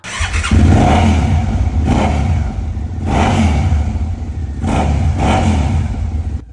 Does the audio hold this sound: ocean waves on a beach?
no